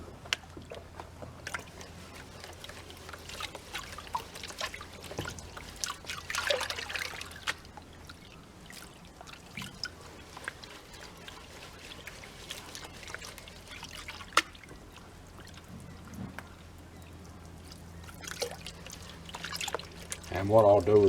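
Water trickles and sloshes as gold is panned from creek gravel, soft and close, rising and falling in uneven swirls and dribbles while someone talks over it at times.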